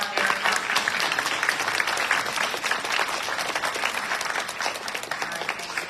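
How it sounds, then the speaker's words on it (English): Graduates stand at a college graduation ceremony while the crowd gives sustained, dense applause, loud and continuous throughout, with faint cheering mixed in. "please stand up and let's applaud their accomplishments"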